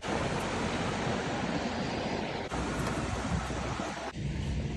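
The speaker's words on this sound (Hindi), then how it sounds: "और देखो साइड में नदी जा रही है" A river beside a mountain road in Arunachal, heard while travelling, makes a dense, continuous rushing roar that stays loud and steady throughout, mixed with wind-like noise and no talk.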